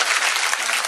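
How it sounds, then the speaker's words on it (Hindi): Loud, dense applause from a crowd at a poetry gathering (mushaira), welcoming a police superintendent poet; continuous and close, filling the whole moment. "एक बार जोरदार तालियों से कमल वर्मा जी का इस्तकबाल कीजिए।"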